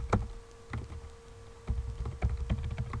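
Keystrokes on a computer keyboard while entering a Linux shell script, irregular close taps in small bursts over a faint steady hum.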